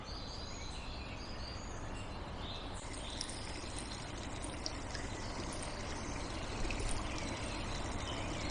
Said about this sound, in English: There's the river running through it and underneath the mill.